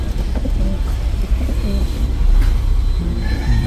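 Pigeons, including ice pigeons, cooing softly at a farm where they are nesting, several low repeated coos over a steady rumbling background.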